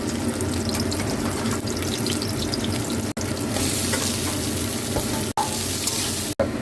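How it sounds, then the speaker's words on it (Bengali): Oil heating in a hot wok (kadai), with a squeezed vegetable frying in it, gives a steady broadband sizzle throughout, close and fairly loud, with a few brief dropouts. "এবার আমার কড়াটা গরম হয়ে গেছে, আমি তেলটা দিয়ে দিলাম এর মধ্যে। এইটা আমি নিগড়ে নিয়েছি জলটা নিয়ে, এবার আমি এটা ভেজে নেবো"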